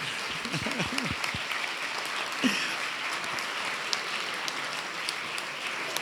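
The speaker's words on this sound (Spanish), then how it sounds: "Un aplauso también, ¿no?" An audience at a Madrid event on Europe applauds, a steady, even wash of many hands clapping that holds throughout, with a brief voice near the start.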